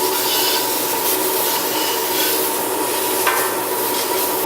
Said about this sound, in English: I now do the sides with this toilet brush